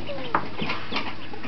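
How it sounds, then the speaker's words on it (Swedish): A chicken clucks close by in short, sharp bursts, with a few soft calls over low background noise. "Den där kycklingen är knäpp."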